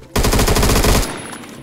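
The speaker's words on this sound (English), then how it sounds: "This gun is so loud." A loud, close burst of rapid automatic gunfire from a first-person shooter rattles for about a second in a dense, even stream, then cuts off into a short fading tail.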